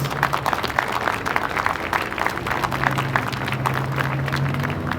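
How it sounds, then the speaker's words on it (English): Audience applause at an outdoor child abuse awareness flag raising ceremony, a steady wash of many hands clapping at moderate distance that carries on throughout, with a low hum running underneath. "Let's extend another round of applause to Jadu"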